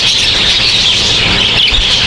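Budgies at a zoo aviary chirp in a dense, continuous chatter of many high twittering calls, fairly loud and unbroken throughout, with no one talking.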